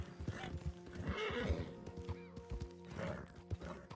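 A horse gallops in the video game Red Dead Redemption Online, with rhythmic clip-clop hoofbeats, snorting breaths and a whinny, fairly close but quietly mixed.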